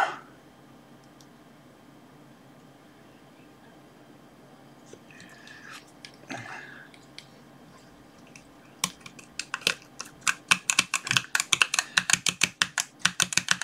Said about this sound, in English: I'm not sure what the key presses actually send, but it's a USB keyboard, I believe.